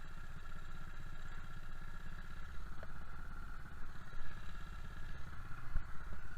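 A small mini bike engine runs steadily at close range, a continuous mid-pitched motor drone with some rattling clatter, holding fairly even loudness throughout without talk.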